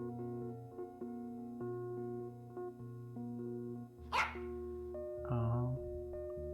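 A dog gives a single sharp bark, then a second, more drawn-out bark or yelp, heard fairly near behind steady electronic video-game music.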